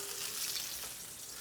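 Halibut fillet searing in a hot pan, a steady close sizzle and crackle of frying with no talk over it.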